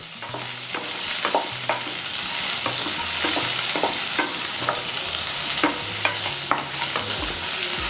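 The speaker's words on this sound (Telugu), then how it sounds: "ఉల్లిపాయలు ఇప్పుడు పెనవలో వేస్తున్నాను నూనె తెచ్చబెట్టది" Sliced onions sizzle in hot oil in a pan, a steady crackling fry broken by regular sharp scrapes and knocks of a spoon stirring, close and without speech.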